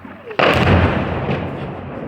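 A heavy boom of distant artillery erupts suddenly, then rolls and rumbles away over a couple of seconds, loud and broad with a long fading tail.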